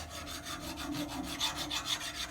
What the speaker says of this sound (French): Un dernier coup de râpe de lime dans les angles